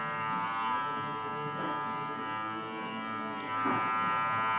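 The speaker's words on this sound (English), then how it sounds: "just allow the clipper to do the work, just to get that little blend in there" An electric hair clipper trims and blends a beard during a dry head shave and beard grooming session, giving a steady, close buzzing drone that continues throughout with slight swells as the blades move, and no talking.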